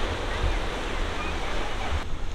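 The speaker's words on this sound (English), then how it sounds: "You can look out into the ocean and just see the mountain of rocks and the waters just crashing against them" Ocean waves crash against a mass of rocks off a sandy tropical beach at Mirissa, Sri Lanka, a steady, full roar of surf and spray filling the whole stretch with no voices.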